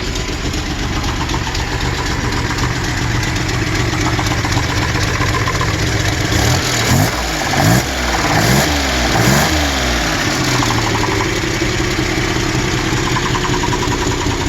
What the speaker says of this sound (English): That knocking you hear is the hydraulic pump. It's making some funny noise.